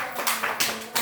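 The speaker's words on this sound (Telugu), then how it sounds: "క్లాప్స్ కొట్టండి." Small children clap their hands in a few quick, light bursts, soft and fairly close, with no talking over them.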